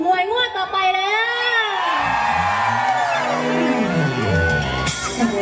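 At an outdoor luk thung country music festival concert, a crowd screams and shrieks loudly with many overlapping high, wavering voices that swell and fade together.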